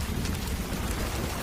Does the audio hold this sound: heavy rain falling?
yes